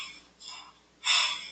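A voice mimics a heavy breather on a telephone line with two close, hissing breaths, a softer one followed by a louder, longer exhale.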